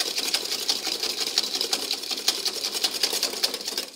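Ricotta and parmesan cream being mixed until smooth: a steady, fast, rhythmic mechanical whirring with dense clicking runs continuously and close, with no talking.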